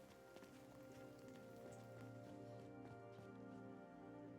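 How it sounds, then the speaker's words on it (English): Steady rain falling in the video game Nightingale, a soft continuous patter of drops under a low hum and faint game tones, quiet and even throughout with no voices. "I think it's just raining."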